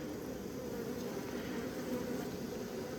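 Live honey bees buzzing steadily up close while a beekeeper inspects infected hive brood, a continuous droning hum with no talk over it.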